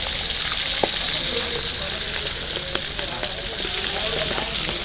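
Whole hilsa fish frying in hot oil at a hotel in Chandpur, a steady loud sizzle with scattered crackles and pops throughout, with voices faintly in the background.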